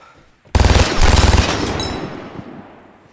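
Automatic gunfire from a gun in the video game Vigor, a loud close rapid burst that breaks out of quiet, a brief pause, a second burst, then a long fading echo.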